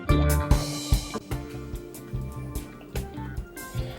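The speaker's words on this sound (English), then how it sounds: "you're going to pour that sauce on top of that goodness right there" Barbecue sauce is poured over oven-baked Jamaican jerk ribs, giving close, wet drips and soft splats in an uneven rhythm, alone and fairly quiet.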